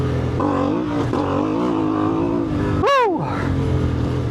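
A tuned CFMOTO 450MT IBEX motorcycle accelerates hard, its engine note climbing loud and close, then briefly dropping and surging again as it revs up through the gears.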